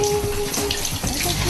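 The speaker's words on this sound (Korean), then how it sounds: "여느 엄마들처럼 이렇게 샤워기를 이용해서 아이를 씻기시고 있었습니다" A handheld shower head runs steadily while a mother washes a young child, giving a continuous close splashing water hiss with no pauses.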